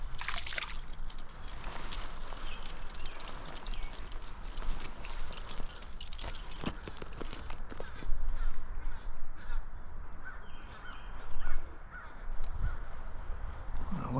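A bird calls with harsh, crow-like caws beside a trout stream in Wisconsin, fairly close and clear over steady running water and faint outdoor handling noise, with no talking.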